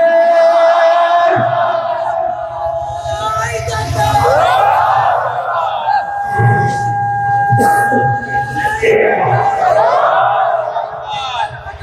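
A large outdoor rally crowd answers a takbir call with repeated loud chants of Allahu Akbar, rising in waves that overlap a preacher's amplified voice, with sustained roaring shouts across the whole stretch.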